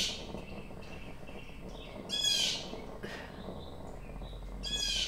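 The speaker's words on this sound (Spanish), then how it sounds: "Son los pájaros que hay que tienen la cola azul y como que son un poquito agresivos." Aggressive blue-tailed birds give harsh, scratchy calls in a few short bursts, fairly close, over a low background rumble.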